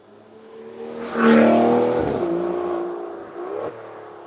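An Aston Martin Vanquish Volante engine revs close by, rising sharply to a loud peak, holding a strong harmonic howl, then easing down before a brief second blip.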